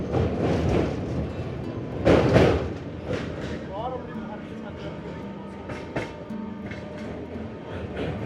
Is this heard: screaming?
no